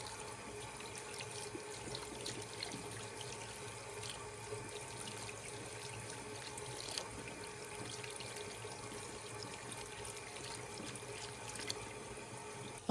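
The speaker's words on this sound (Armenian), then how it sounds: "Տասներկու ժամ անց ընկույզները դուրս ենք բերում կրային լուծույթից և հատ-հատ լավ լվանում։" Walnuts are washed one by one under a running tap after soaking in a lime solution. Water flows steadily and quietly at a low level for the whole stretch, with faint splashes and no speech.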